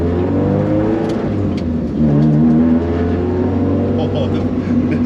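Rally car engine droning and revving from inside the cabin, a steady loud low rumble with a brief rise in pitch midway, voices talking faintly underneath.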